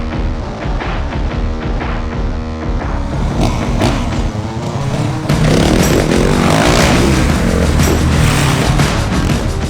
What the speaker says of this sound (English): to offer a unique experience to test ride the all-new WR450F